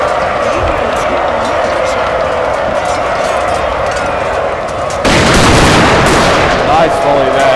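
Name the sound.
musket volley gunfire in Total War video game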